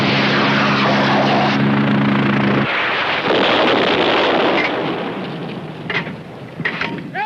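A military helicopter flies with a loud, steady rotor and engine drone that cuts off partway through, followed by rumbling noise and a few whooshing sweeps near the end.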